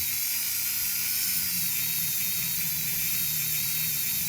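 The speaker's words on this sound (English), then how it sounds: "I sanded them down and did the final shaping with this Dremel that I'm using right here." A handheld Dremel rotary tool grinds steadily with a high, continuous whine as it sands and shapes a wooden Celtic trinity heart, holding an even pitch from start to finish with no speech.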